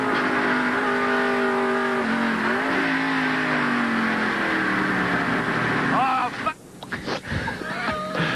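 Race car at the 1989 Banquet 300 sliding off course after hitting oil: a loud engine drone shifts pitch and fades into crunching, scraping noises and rough bursts near the end, under commentary.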